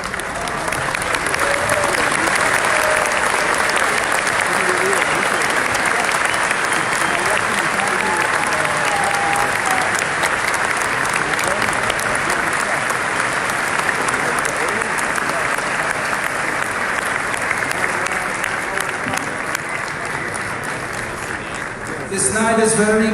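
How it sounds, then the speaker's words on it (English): A large audience at a Siyum HaShas gathering in Jerusalem gives a standing ovation, with dense, steady applause that holds loud and unbroken for over twenty seconds. "I would appreciate if everybody stands up and gives him a standing ovation"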